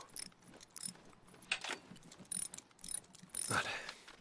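Mechanical ratcheting and clanking of a motorcycle being repaired in the video game Days Gone, with quiet clicks, two louder bursts of metallic grinding and no voices.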